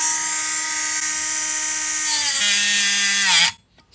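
A battery-powered grinder disc grinding a steel Honda triple tree bearing race, giving a loud, steady, high-pitched whine that drops in pitch as the motor slows, then cuts off sharply into silence.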